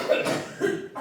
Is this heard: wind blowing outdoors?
no